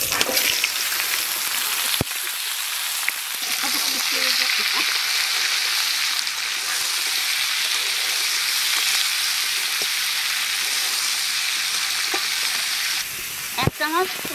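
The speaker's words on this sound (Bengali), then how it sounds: "মাছ ভাজা তেলের মধ্যে লাউ ভাজিয়ে নেব" Bottle gourd pieces fry in oil previously used for frying fish, giving a loud, steady, dense sizzle throughout, with brief bumps and stirring noises near the start and end; no one talks.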